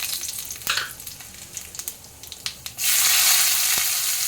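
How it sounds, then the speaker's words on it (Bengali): Cumin seeds hit hot oil for tempering, and after a few faint clicks and taps a loud, bright sizzle suddenly bursts up and holds steady to the end. "একটু জিরে ফোড়ন দিলাম"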